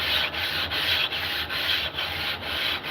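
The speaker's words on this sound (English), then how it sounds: "We're going to flatten this stone." A sharpening stone being flattened by rubbing it back and forth on an abrasive surface, a loud close gritty scraping repeated in steady strokes with brief pauses between each pass.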